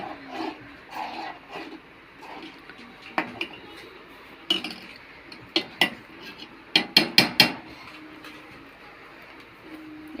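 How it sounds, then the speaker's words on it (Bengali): Metal utensil scraping and clinking against a pan as tea is stirred continuously, soft scraping at first, then a run of sharp, loud clanks near the end with no talking. "অনবরত নেড়ে যেতে হবে।"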